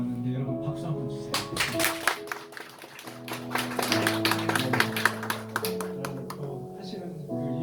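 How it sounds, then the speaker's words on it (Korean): A church congregation at a Sunday service gives a short round of clapping to welcome a returning young member, uneven and moderately loud over a sustained organ or keyboard chord, with a voice speaking. "여러분 박수 한번 주세요"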